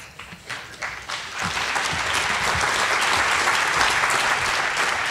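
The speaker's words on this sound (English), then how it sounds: "keep those applause coming" Sustained audience applause at a scholarship banquet, starting in scattered claps and swelling into steady, dense clapping from a full room that holds for several seconds.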